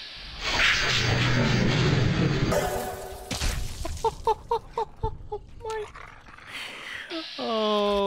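A dog whimpers and yelps in a series of short, pitched cries in the Fallout: New Vegas video game, following loud game noise and a crash, with a person talking over parts of it.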